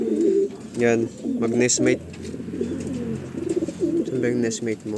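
A racing pigeon coos repeatedly in a breeding loft, soft throaty calls close by, heard under someone speaking Tagalog.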